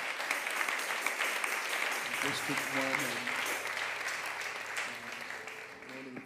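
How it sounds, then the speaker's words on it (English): A church congregation applauds its pastors during an appreciation service, steady dense clapping heard somewhat distant, with someone speaking over it into a microphone. "If you have a pastor, clap and give God praise for your pastor."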